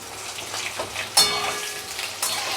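Pieces of pointed gourd (potol) hit hot oil in a pan for potol dalna, setting off a loud sharp sizzle, then a steady frying hiss with a second burst of sizzling near the end, close up and without talk.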